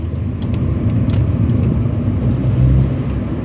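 A Mini car engine runs with a steady low rumble while the driver shifts through the gears, the tone holding fairly even with slight swells, heard close up from inside the car with no talking.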